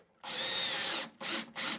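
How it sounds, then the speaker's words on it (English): A Ridgid power drill driving a screw through a pre-drilled hole into a wall anchor, whirring loudly for about a second and then bogging down in two shorter strained bursts, close up with no talk. "you can hear it bog the drill down"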